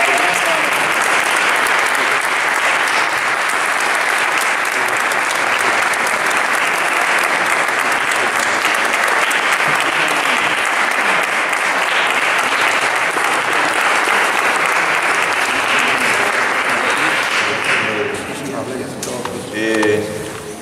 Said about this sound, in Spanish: Así que os pido un fuerte aplauso para Emérito Jiménez.